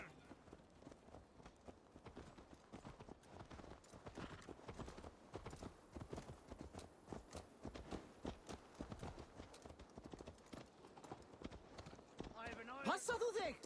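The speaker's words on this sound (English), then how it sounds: "Let's return the horse" Horse hooves clip-clop steadily in Assassin's Creed Valhalla, a quiet rhythmic trot under continuous voices talking, with a brief louder flourish near the end.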